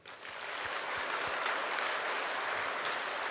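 A church congregation at a Korean Sunday service gives a full, continuous round of clapping in thanks. The applause builds quickly and holds steady, with a few low thumps underneath and no talking.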